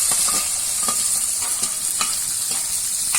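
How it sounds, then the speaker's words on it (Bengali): Dried fish and pre-fried taro stolons frying in a pan give a loud, continuous hiss of hot oil, broken by light, repeated stirring strokes close by, with no talking. "এখন ভেজে রাখা কচুর লতিগুলো দিয়ে দিচ্ছি"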